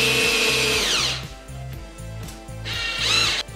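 A power drill drives a screw into a wooden sign board, whirring loudly at the start, then pulsing in short ratchet-like bursts and ending in another high-pitched whir.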